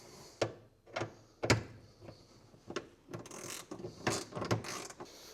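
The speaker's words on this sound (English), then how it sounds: "Now we just got to tighten some bolts down." Bolts being tightened down while fitting a Pelican case tour pack to a motorcycle: a run of sharp, close ratcheting clicks and metallic knocks at an uneven rhythm, with no talking.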